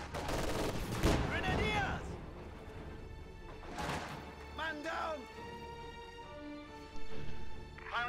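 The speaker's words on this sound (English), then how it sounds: "Half-track hit the teller mine right there." In a World War II strategy video game a half-track strikes a Teller mine, a loud burst amid ongoing gunfire and battle noise, with scattered blasts and shots across the scene.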